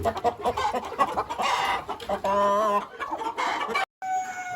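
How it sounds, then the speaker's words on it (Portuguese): A Polish rooster crows and clucks up close among other fowl, with a drawn-out harmonic crow in the middle and more calls after a brief gap, over busy farmyard background noise. "Esse galo de polonesa."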